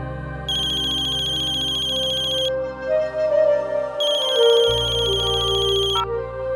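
A mobile phone ringtone for an incoming call from a mother plays as a bright, repeating electronic melody. It rings in two bursts over soft background music.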